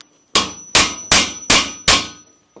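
Five sharp metallic hammer blows knocking a part into place on a Suzuki XF650 motorcycle, steady rhythm, loud and close, each with a short ringing tail, followed by a softer tap.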